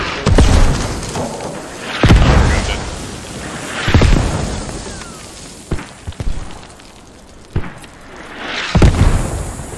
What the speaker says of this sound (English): His mortars are hitting phenomenally.